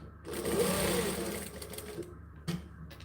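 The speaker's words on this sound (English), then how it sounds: "Always backstitch. You want to lock those stitches in." A sewing machine backstitches through toweling fabric, humming steadily for under two seconds before a couple of brief, quieter stitch bursts.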